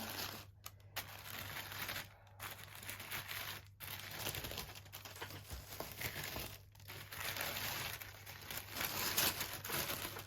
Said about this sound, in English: it is very difficult for me to get this tissue paper out of the way